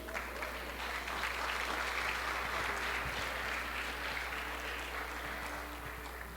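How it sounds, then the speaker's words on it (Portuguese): A church congregation breaks into sustained, even applause, dense and moderately loud throughout with no voices rising above it. "você deveria estar aplaudindo ao Senhor."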